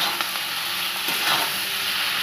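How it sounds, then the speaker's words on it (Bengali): Chili chicken fries in a pan with a pinch of chili powder, a continuous close broadband sizzling hiss with no pauses. "একদম সামান্য পরিমাণ লঙ্কার গুঁড়ো দিয়ে এটিকে আমরা ভালো করে, একটু ভাজা ভাজা হবে"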